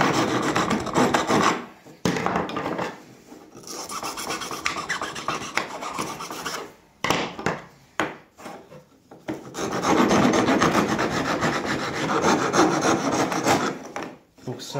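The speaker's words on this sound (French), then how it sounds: "Un coup de ponçage." Sanding a chestnut wood vase by hand, rough rasping strokes in uneven bursts with brief pauses, close and fairly loud, with no talking over it.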